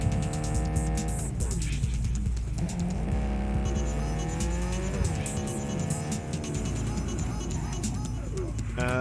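Car engine revving and accelerating in the Cyberpunk 2077 video game, with rising and falling harmonic engine tones, sustained and loud, under talk and game music.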